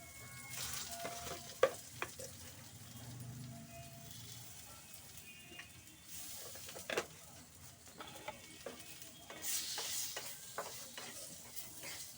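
Potatoes frying with turmeric and salt, a soft continuous sizzle with intermittent stirring scrapes and occasional clinks of a utensil against the pan.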